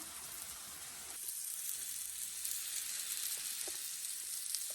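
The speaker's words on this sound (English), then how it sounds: "once that meat is seared" Pork tenderloin sears in a hot pan over medium-high heat, a soft but steady hiss and crackle that swells slightly after the first second and continues evenly, with faint pops.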